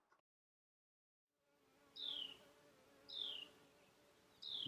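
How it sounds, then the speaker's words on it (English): Bees buzz near bonsai soil containers outdoors, a faint low hum under three short, sharper buzzing passes that sweep in and fade about a second apart. "Bees."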